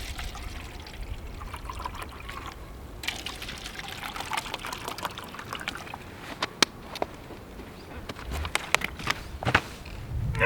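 Water pours from a large bottle into two cups during a simple outdoor demonstration, giving a steady trickling splash with scattered clicks and knocks, fairly close and moderately loud.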